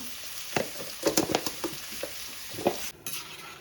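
Pieces of taro root frying in a pan with turmeric and salt, stirred with a utensil that scrapes and taps the pan in irregular bursts over a soft steady sizzle.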